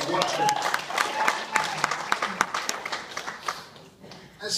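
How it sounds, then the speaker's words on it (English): Audience applause at a live music show, a moderate patter of clapping with crisp individual claps and some crowd voices, fading toward the end. "It's funny when you start to clap and no one joins in"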